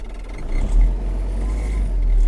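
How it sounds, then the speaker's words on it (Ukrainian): An MTZ tractor engine idles to warm up, a steady low diesel rumble running continuously and close by with no talk over it. "Ну що, будемо лишати, щоб трохи поробив трактор. Хай мотор трохи прогріється."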